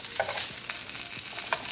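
A yellowfin tuna steak sears on its edges in a hot pan, giving a close, steady sizzle broken by a few light knocks and scrapes.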